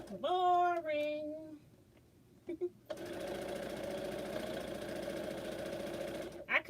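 A sewing machine stitching fabric face masks, running in a steady close, rapid mechanical chatter for several seconds after a voice and a few brief clicks.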